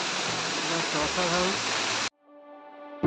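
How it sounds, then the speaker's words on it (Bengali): A tall waterfall cascading from a great height in the mountains of North Sikkim, heard as a loud, steady roar of rushing water with a voice speaking over it, cut off abruptly near the end. "কত উঁচু থেকে ঝর্ণাটা নামছে, খুব সুন্দর লাগছে দেখতে"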